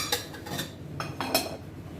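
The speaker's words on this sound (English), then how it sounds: "you can simply lock it like this and cover it with the lid" A hand coffee brewer is locked shut and its lid set on top, giving a few quick metallic clinks and taps at close range, with no talking.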